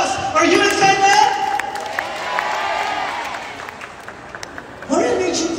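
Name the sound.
audience applause for UUU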